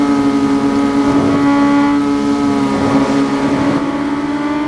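A Kawasaki ZX10R superbike in the racing game RIDE 5 revs hard as the rear tire spins up under power, a loud sustained engine tone with pitch swells and dips, close and continuous.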